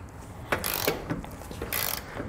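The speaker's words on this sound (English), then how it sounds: "Now we'll come back with our torque wrench here and torque everything down to the specifications listed in your instructions." A torque wrench ratchets as bolts are tightened down on a Draw-Tite Sportframe trailer hitch receiver, giving a few quick bursts of close, crisp metallic clicking separated by short pauses.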